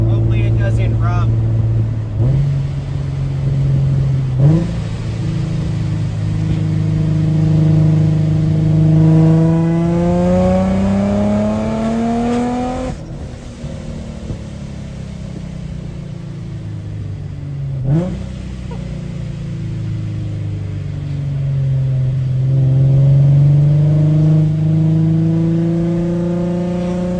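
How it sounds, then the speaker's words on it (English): A supercharged Nissan 350Z revs up through the gears while driving, its engine note climbing in long sweeping pulls, dropping at each shift, then rising again, loud and close from inside the car. "gonna drive around, warm the car up a little bit, and see how it does on the drag pack"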